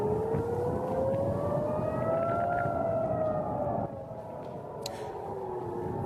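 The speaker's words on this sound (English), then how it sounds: "sirens blasted over Jerusalem tonight, warning of incoming missiles" A long wailing air raid siren warning of incoming missiles over Jerusalem at night rises and falls steadily, loud and sustained across the whole stretch, with no voices.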